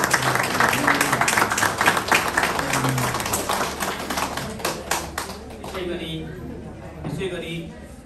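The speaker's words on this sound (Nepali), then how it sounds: "यतिखेर हामी ताली बजाउन" Applause and clapping from guests during a wedding ring exchange ceremony, a dense burst of claps that gradually thins out, with voices talking over and after it.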